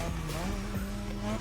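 Car tires squealing through an inertia drift in The Crew Motorfest, played on a Fanatec wheel, with a modded RX-7: a steady high screech over a continuous engine drone, loud and close, lasting a moment.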